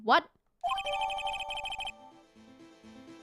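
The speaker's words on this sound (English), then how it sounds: "I heard a phone ring just now." Cell phone in Phoenix Wright: Ace Attorney rings with a rapid, bright trilling electronic tone for over a second, then drops to a softer repeating melody. A short spoken exclamation comes just before it.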